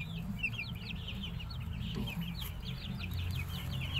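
Rapid high peeps from Brahma chicks repeat over soft low hen clucking, steady and close, with no talking.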